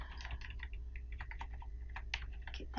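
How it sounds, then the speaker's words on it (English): Computer keyboard arrow keys tapped in quick, irregular bursts of light plastic clicks, some single presses and some rapid runs, close and quiet with no talk. "I'm just using my arrow keys to get that all lined up"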